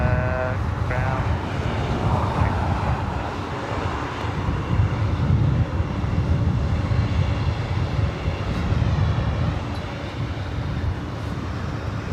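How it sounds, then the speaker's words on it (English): Delta Airlines Airbus A321neo jet at LAX airport, its engines a steady, loud roar that holds for the whole stretch, with voices speaking over it. "This is Delta Airlines Flight 428 heading to La Hui. A321neo."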